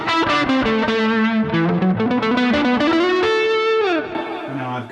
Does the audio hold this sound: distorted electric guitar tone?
yes